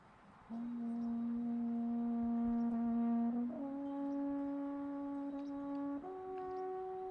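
An alphorn plays sustained mellow tones, stepping up in pitch a few times, alone against quiet outdoor background in the Alps near Göscheneralp.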